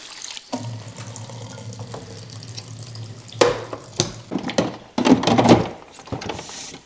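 Water runs into the tanks of an EcoVacs Deebot X9 Pro Omni robot vacuum-mop base in a home, a steady filling stream joined later by louder splashing bursts and a few plastic thunks near the end.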